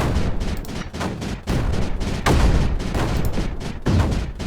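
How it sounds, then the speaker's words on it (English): Cannons keep firing in the strategy video game Creeper World 4, a dense, continuous barrage of overlapping booms and blasts with no break, loud and busy throughout. "just a couple of cannons can hold off a flow through of stuff like that"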